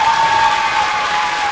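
Applause rings out at the Cardinal School Board meeting in Middlefield, Ohio, as dense, steady clapping from a room full of people, loud and continuous with a faint murmur of the crowd.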